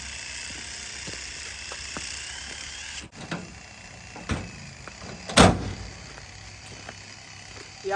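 A vehicle door on a job site for felling a big tree slammed shut with a sharp, loud thump, after softer clunks and rattles over a steady background hum.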